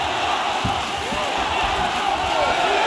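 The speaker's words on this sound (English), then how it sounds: "And listen to this crowd." Arena crowd at a live MMA fight between Aung La N Sang and Vitaly Bidash roars in a steady, dense wash of cheering and shouting throughout, loud and continuous with faint thuds beneath.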